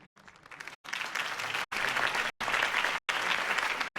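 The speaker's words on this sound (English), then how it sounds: "If only Mr. Wayne, my campaign's largest backer, could have heard that applause" Crowd applause in a Batman Telltale Series video game scene following a campaign speech, a sustained dense clapping that cuts out in brief gaps, steady and fairly loud with no voices.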